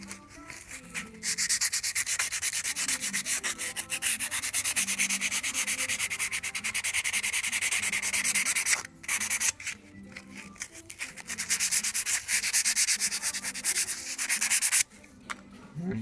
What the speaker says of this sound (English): Clean that up with sandpaper a little bit more.